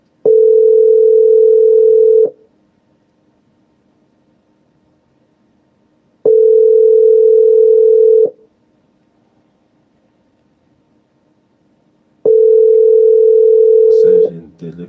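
A telephone rings down the line in a steady ringback pattern: three loud, even two-second tones, each followed by about four seconds of silence, with a short burst of noise at the very end.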